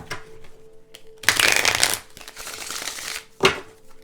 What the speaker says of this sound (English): Let me just do a couple more shuffles here.